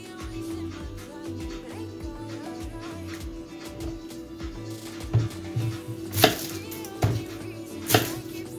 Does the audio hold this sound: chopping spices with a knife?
yes